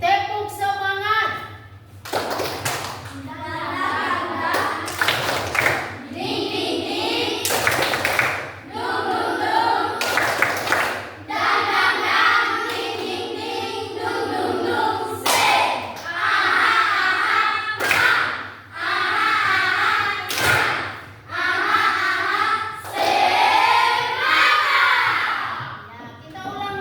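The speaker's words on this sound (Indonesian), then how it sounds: "tepuk semangat." Classroom students doing the rhythmic 'tepuk semangat' spirit clap: loud group claps and thumps in patterned bursts, mixed with children chanting along and a teacher's voice, close and energetic, repeating across the room.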